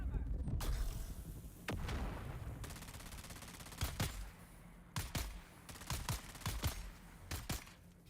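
Rapid grenade blasts and gunfire in a Dune: Awakening firefight, sharp loud bangs repeating irregularly, some clustered close together, over continuous battle noise.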